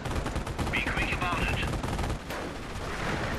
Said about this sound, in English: that was a brutal strafing, and he got like two CPs out of that